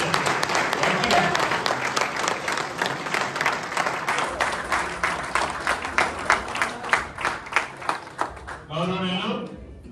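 Audience at a goldsmiths' association meeting claps together, dense crowd applause that settles into rhythmic unison beats near the end before fading into a brief voice.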